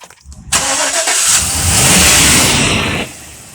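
A 2015 Chevrolet Express van with a 4.8L Vortec V8 cranks briefly, then fires up loud and close with a burst of revving that settles into a steady, rumbling idle before cutting off.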